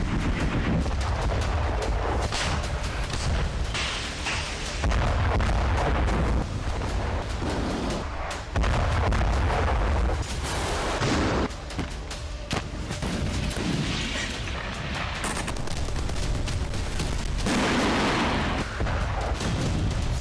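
Repeated heavy booms and blasts from artillery strikes on a single target in a war zone, arriving one after another across the span, loud and dense, with bursts of rapid gunfire between them.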